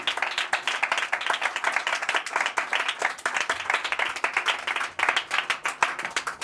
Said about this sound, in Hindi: तालियां बजा परमेश्वर दिए